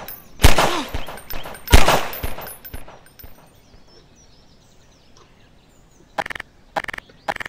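Gunfire in the video game Garry's Mod: two loud close shots with echoing tails, a few quieter pops, then near silence before a burst of rapid automatic fire near the end.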